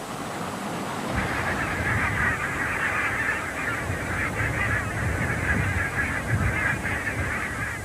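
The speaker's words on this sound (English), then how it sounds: "These barnacle geese know the country only as a winter roost, as do the white-fronted geese." A large flock of barnacle geese at an Irish winter roost honks continuously, a dense, overlapping chorus of calls that carries on without a break.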